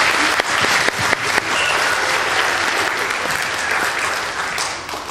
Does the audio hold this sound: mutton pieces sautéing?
no